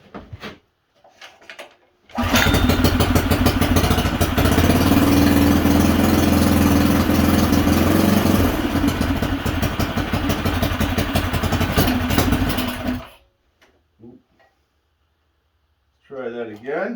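A Honda GX160R small engine on choke catches after a pull and runs loudly at a rough, throbbing idle for about eleven seconds, then dies. Silence follows, and a voice speaks briefly near the end.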